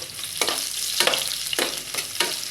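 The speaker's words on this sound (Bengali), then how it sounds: "এটা একদম লাল করে ভেজে নেব" Crushed garlic fries in mustard oil with panch phoron, a steady sizzle broken by about five sharp scraping stirs spaced evenly, close and loud with no voices.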